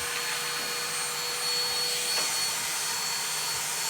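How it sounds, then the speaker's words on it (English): An Auto XS cordless vacuum cleaner sucks up crushed tuck biscuits, giving a steady, close whirring roar with a slight rise in suction noise partway through and no talking. "Let's see how it is at sucking tuck biscuits."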